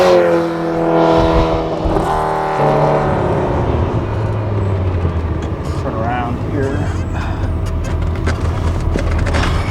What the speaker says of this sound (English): The engine, like I said, sounds really good. It's got this nice throaty intake roar,